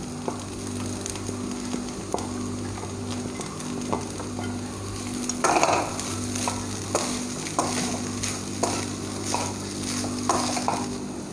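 Ground cooked chicken being stirred into a sizzling masala in a pan, with a steady frying hiss and repeated scraping strokes of the spoon at a close, moderate level, without any talk.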